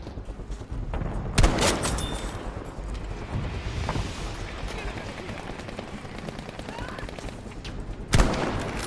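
Battlefield V gunfire in rapid, dense bursts throughout, with two sharp louder shots standing out near the start and end over continuous battlefield noise.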